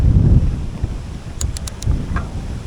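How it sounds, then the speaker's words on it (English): Strong wind buffets the microphone in loud, gusty low rumbles at a campsite near mountain bike trails, with a few faint high chirps briefly cutting through. "Bloody hell, it's windy"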